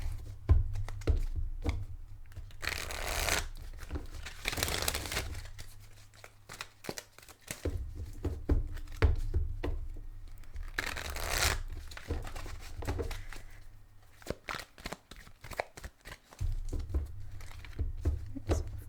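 Tarot or oracle cards being shuffled for a Gemini reading, repeated soft riffling and flicking in several bursts over a low steady hum, close and moderately loud.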